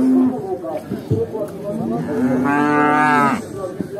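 Cattle at the Sokuluk cow bazaar in Kyrgyzstan give a drawn-out, fairly close moo over the steady chatter of people bargaining at the market.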